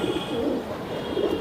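Silver Giribaz pigeons coo softly nearby in a loft, low throaty rolling calls repeating under a faint steady background hum, with no one talking.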